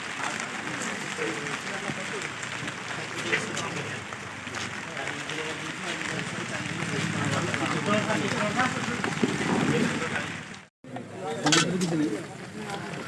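Heavy rain pours as a dense, steady hiss that fills the scene, with voices talking over it and a brief drop-out near the end.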